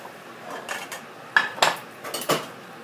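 A thick Thai pot-style omelette being scooped out of a pot, making a few sharp metallic scrapes and clinks of a utensil against the pot, with quieter rustling in between and no talking.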